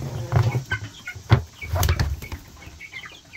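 Hungry chickens cluck and murmur close by in a backyard run, with several short bursts of clucking and rustling movement.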